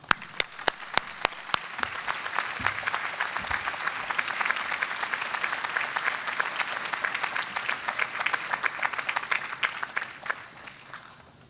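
A college commencement crowd gives sustained applause, opening with a few sharp nearby claps before a broad steady wash of many hands that continues evenly and tapers slightly at the close.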